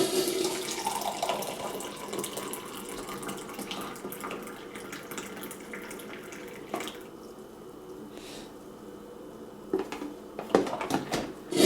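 Coffee pouring from the thermal carafe of a Black+Decker 12-cup thermal coffeemaker, a steady liquid stream into a mug with light clinks and a few sharper knocks near the end.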